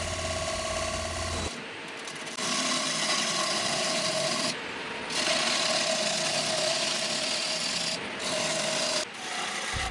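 A woodturning lathe with a gouge cutting the inside of a wooden platter gives a steady rasping, scraping hiss that swells and pauses between cuts, close and loud, with no talking.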